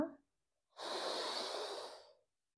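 During a yoga breathing exercise for acidity in pregnancy, a single deep, close inhale is drawn through the gaps between the teeth, making a hissing rush that lasts over a second before silence.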